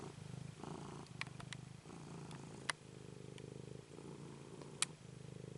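A steady, close cat purr rumbles continuously in soft repeating cycles, with a couple of brief sharp clicks and taps near the middle and end.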